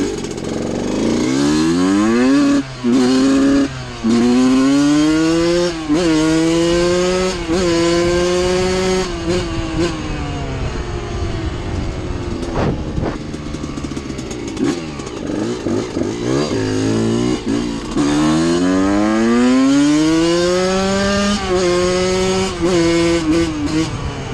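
A big dirt bike sets off along a trail, its engine revving loud and close throughout, pitch climbing and dropping repeatedly as the rider works the throttle, with no voices.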